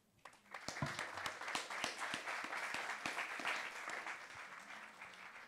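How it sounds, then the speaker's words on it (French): An audience at a gendarmerie prevention and protection talk applauds local associations: dense, steady clapping starts after a brief quiet moment, then continues close and even to the end with sharp individual claps standing out. "on peut les applaudir et je commencerai par les applaudir moi"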